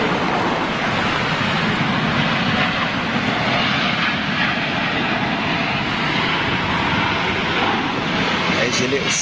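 A Spirit passenger jet arriving from Las Vegas roars steadily and loudly overhead, a continuous broadband rumble with wind noise, no voices heard.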